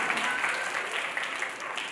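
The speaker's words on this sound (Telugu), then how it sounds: "కొట్టండి గట్టిగా చప్పట్లు" Children clap hard and loud at a church vacation Bible school, a dense, steady wash of many hands for about two seconds with a faint murmur of voices.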